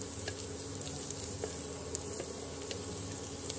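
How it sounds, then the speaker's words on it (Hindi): Onions sauté in a pan for a Shahi white stew, a soft steady sizzle with a few light scraping taps from stirring. "प्याज को चलाते हुए मुलायम होने तक की ही पकाएं।"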